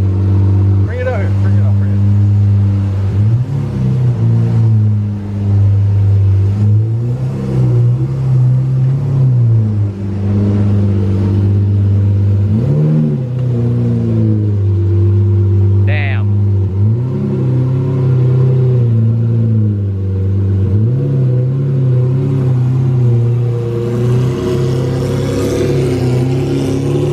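Supercharged Lamborghini Huracan with a loud, near engine revving and accelerating in repeated surges, alongside a wide-body Murcielago, with people talking over it throughout.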